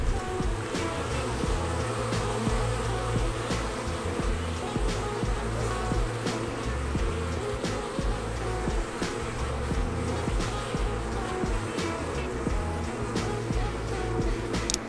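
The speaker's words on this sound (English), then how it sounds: "There's still bees going in and out, so I know they didn't all leave" Honey bees buzz around a hive after a swarm, with bees going in and out. Their steady, fairly faint hum runs throughout under outdoor background noise.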